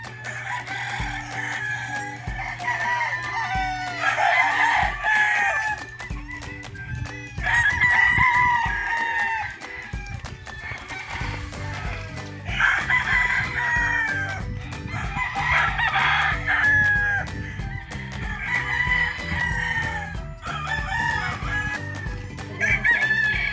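Brown red gamecocks on a game farm crow again and again, several birds overlapping near and farther off, with clucking mixed in over a steady low hum.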